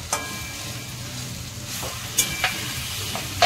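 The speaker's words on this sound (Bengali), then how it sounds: "পুরো তেল ছেড়ে দিয়েছে মোচার থেকে, আর একটু করতে হবে এটা, আর একটু নাড়াচাড়া করতে হবে" Banana flower with cashews and raisins sizzling in oil in a pan for mochar ghonto, with a steady close fry and a few sharp scrapes of a spatula stirring through it.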